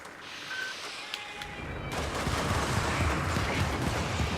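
Continuous gunfire from a shooter video game, with a short quieter stretch of scattered shots before dense, rattling bursts and booms take over and run without pause.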